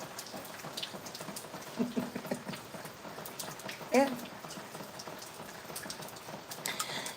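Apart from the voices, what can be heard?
rain during a storm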